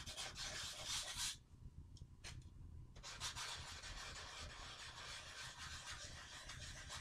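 Steady rasping rub of hand sanding a wooden gun stock, working stain into a slurry finish in a circular motion, close and continuous with a brief pause partway through.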